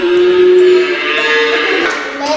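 Cow mooing on a Guaraní farm in Yembiguasu, a drawn-out low bellow near the start that fades into a wash of steady background noise, with no one talking.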